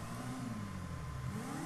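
A motorbike engine in GTA V revs and accelerates, a steady loud mid-pitched drone with rising pitch near the end, alone without talk.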